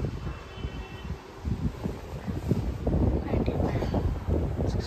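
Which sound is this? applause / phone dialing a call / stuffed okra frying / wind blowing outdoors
wind blowing outdoors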